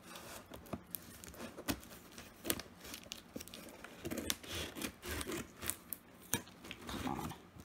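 Tough adhesive tape being pulled off an Apple iBook G4 laptop, close sticky tearing and crinkling peels in irregular bursts, some brief and some drawn out, with no talking.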